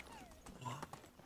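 Horse hooves clip-clop in the Medieval Dynasty video game, a few soft, quick hoof strikes mixed with game ambience and a voice talking over them.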